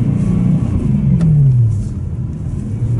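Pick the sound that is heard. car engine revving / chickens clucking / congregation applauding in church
car engine revving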